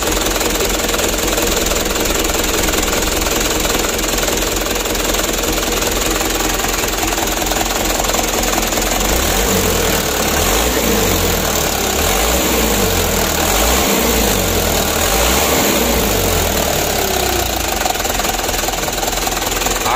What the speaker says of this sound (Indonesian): Kalau ini mesin masih dingin teman-teman ya, belum panas.